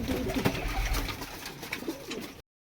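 Soft, low pigeon cooing runs steadily through the clip, with fluttery rustling and light background noise, then cuts off abruptly near the end.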